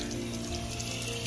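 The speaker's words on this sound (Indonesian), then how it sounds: "Ini ada suara air yang gemericik dari" Water gurgles and rushes steadily from a municipal water pipe in a rural village on a mountain slope, a close, continuous flowing sound with no talk.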